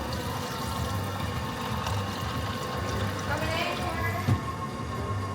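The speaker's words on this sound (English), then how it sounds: "Choose your beverage. Watch, Powerade. Fruit punch. And then hold to pour." Powerade fruit punch flowing from a drink dispenser into a cup, a continuous gushing pour over steady background noise, one brief clunk near the end.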